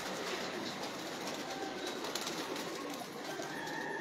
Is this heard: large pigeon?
yes